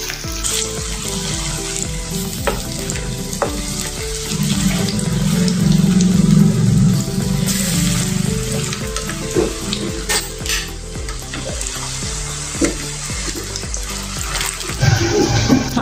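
Hara bhara kabab frying in a pan, a loud, steady sizzle that swells in the middle and continues throughout, with occasional clinks and scraping as the patties are handled; no speech.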